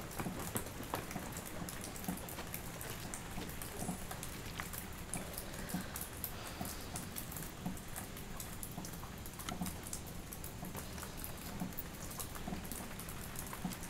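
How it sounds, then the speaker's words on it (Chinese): Sudden rain coming down outdoors in Fuzhou, a faint, even hiss of falling drops with scattered light taps, steady throughout and without speech. "哦呦，怎么突然下雨？"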